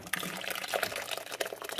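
Homemade butter and buttermilk pour from a Blendtec blender jar into a small strainer, a soft, close liquid splashing and trickling with quick wet patters for under two seconds.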